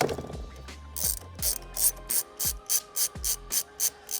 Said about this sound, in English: So this is a 19, so we got a 19 socket, our ratchet and extension.